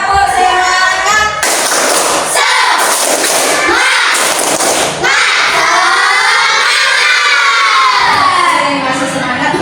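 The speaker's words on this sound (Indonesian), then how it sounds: "biar tambah semangat, kita laksanakan tepuk semangat" A classroom of children performs a rhythmic clapping chant, bursts of claps alternating with loud shouted chanting voices, close and energetic.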